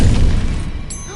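A Confringo spell blast in Hogwarts Legacy lands as a heavy low boom that decays over about a second, loud and close, with no talk over it.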